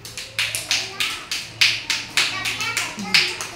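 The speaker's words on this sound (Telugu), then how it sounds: "క్లాప్స్ కొట్టండి పిల్లలు." Anganwadi children clap together in a quick, even rhythm, about a dozen sharp, close claps over a few seconds.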